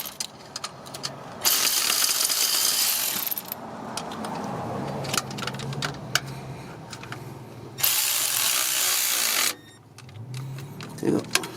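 A wrench tightens a bolt on a 1976 Ford Econoline, giving close metallic ratcheting clicks and clanks in short bursts, with a voice speaking briefly between them.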